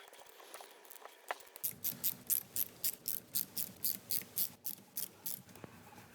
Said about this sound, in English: I'm now going to begin loosening bolts on the cam cover.